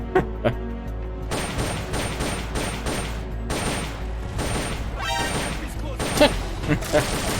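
Repeated bursts of gunfire and explosive booms crackle through a busy game soundtrack in Metal Gear Solid: Peace Walker, with a voice talking over the shooting.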